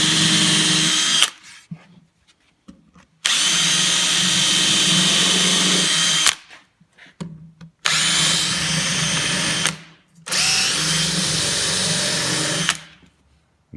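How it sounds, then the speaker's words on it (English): A power drill pre-drills screw holes in a cabinet during assembly, whirring loudly in four sustained bursts of a few seconds each, separated by short near-silent pauses. "So pre-drill all of these."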